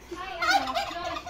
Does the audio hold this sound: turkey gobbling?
yes